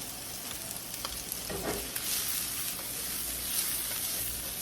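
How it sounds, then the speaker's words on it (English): Cooked pasta sizzling as it reheats in a frying pan with lemon and wine, a steady close hiss with occasional stirring scrapes and no talking. "Pasta's cooked, we're just heating it up."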